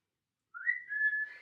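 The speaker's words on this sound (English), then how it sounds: "Can you whistle?" A person attempting to whistle during a physical exam, producing a single thin, faint whistle that wavers and slides for about a second after silence.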